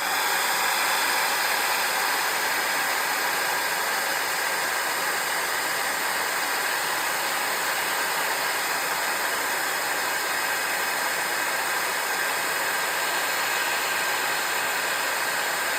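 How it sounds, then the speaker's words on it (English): Heat embossing tool blowing hot air steadily onto a card, a continuous broadband hiss and whir held at even, close volume throughout with no speech. "Now what I'm going to do is I'm going to emboss it before I cut it out."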